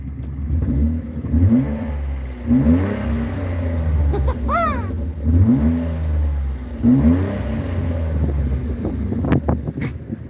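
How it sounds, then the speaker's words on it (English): A car engine revs repeatedly through its exhaust, rising and falling in several throaty bursts over a steady idle, close by and loud. "I'll give it a little gas for you guys"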